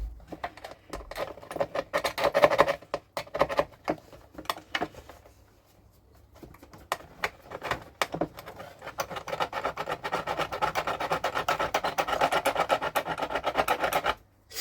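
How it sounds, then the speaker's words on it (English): Rapid rasping strokes of a hand file on a 3D-printed jet boat part, close and continuous, pausing briefly in the middle before resuming with a steady, fast scraping rhythm. "The file was taking way too long"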